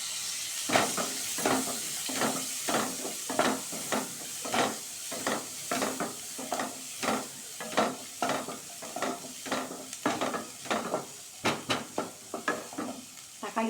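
Onion and garlic frying in a pan, stirred in quick repeated strokes that scrape rhythmically through a continuous sizzle for the whole stretch.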